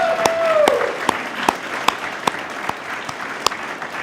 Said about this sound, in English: So let's hear with your applause whether it's worthwhile.